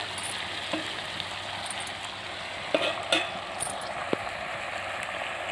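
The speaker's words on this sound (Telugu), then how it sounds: "వేగుతున్నాయండి దొండకాయ ముక్కలు" Pieces of ivy gourd frying in a pan outdoors, giving a steady soft sizzle with a few faint scrapes of stirring, no talking.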